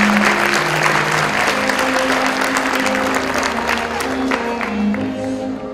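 Loud, sustained applause from a school graduation audience honoring the graduates, dense clapping with some cheering mixed in and a low musical hum underneath, steady for several seconds before easing slightly.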